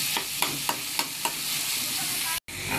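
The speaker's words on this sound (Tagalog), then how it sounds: "Tapos lalagyan natin yung giniling natin. Halo-halo muna para labasin natin yung mantika ng giniling." Ground meat fries in a pan with a constant close sizzle, as a utensil scrapes and stirs it in about five quick, evenly spaced strokes before the sizzle carries on alone, cut by a short silent gap near the end.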